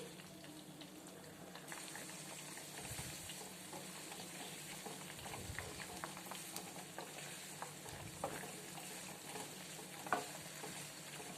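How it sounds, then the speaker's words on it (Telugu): Homemade hair oil heats in a pan, giving a faint, steady sizzle and soft bubbling throughout with occasional small pops, quiet and close, without any talk. "మనం ఈ ఆయిల్ అనేది వేడి చేసుకోవాలి"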